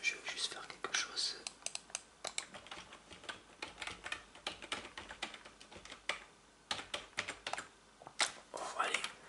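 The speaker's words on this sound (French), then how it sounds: "pour les sons déclencheurs sur le clavier" Rapid keyboard typing and tapping for ASMR triggers, crisp clustered clicks in bursts with brief pauses, close and quiet, with soft whispering in between.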